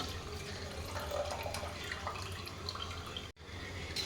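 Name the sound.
rice being added to boiling water for biryani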